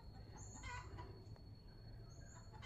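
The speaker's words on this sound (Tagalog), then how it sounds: "narinig ko yung putak ng manok." A chicken clucks and squawks in a few short bursts outdoors by an open fence, fairly distant and faint over a low background rumble.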